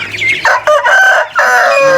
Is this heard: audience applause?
no